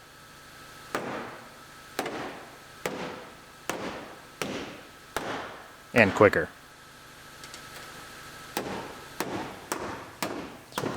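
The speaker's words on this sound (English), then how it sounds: "And we could use a breaker, but a hammer is much more fun." A hammer strikes repeatedly at a welded body panel on a Ram ProMaster City van to break it loose, with sharp metallic blows about once a second and a louder cluster midway. A voice speaks briefly between hits.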